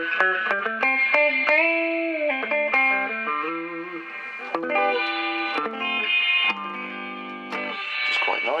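An electric guitar played through the spring reverb of a 1980s Award Session Rockette 30-watt solid-state amp, with chords and single notes ringing out and a washy, sustained tail behind each phrase.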